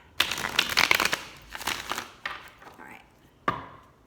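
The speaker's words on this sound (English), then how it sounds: "One more good shuffle in there." Tarot cards being shuffled by hand in a short close burst of riffling and slapping, with a pause, a brief second flurry, and a final sharp tap.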